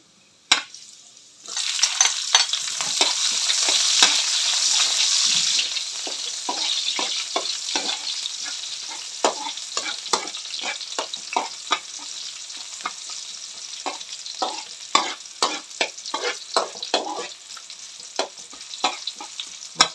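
Pork humba with banana, egg and taro frying in a pan: a loud steady sizzle builds early, then eases under repeated utensil scrapes and taps as the food is stirred and turned, with no voices.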